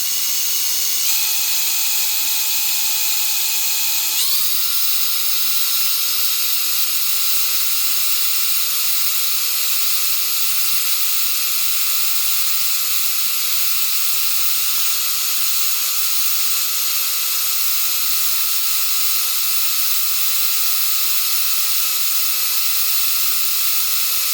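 An alternator on a Cozy MKIV airplane being spun up to charge the battery gives a steady high whine and hiss that steps up in pitch early on, then holds level and constant.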